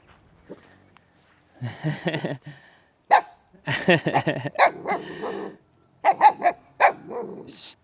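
Goldie, a dog at a campsite in Pangasinan, gives short, close yelps and barks in quick clustered bursts, separated by brief quiet gaps.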